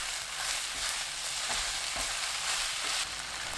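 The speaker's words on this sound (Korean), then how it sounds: "센 불로 켜고 30초 볶습니다." Eggplant stir-fries on high heat with ketchup, grain syrup and soy sauce in a pan, a close, steady sizzle broken by short scraping stirs.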